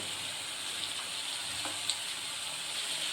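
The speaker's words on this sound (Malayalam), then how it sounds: "സവോള ഒന്ന് വാടി വന്നാൽ അതിലേക്ക് ഇനി ബാക്കി പച്ചക്കറികൾ ചേർത്ത് കൊടുക്കും" Onion, potato and carrot frying together in a pan give off a soft, even sizzle that hisses steadily, with only a faint tap or two and no talking.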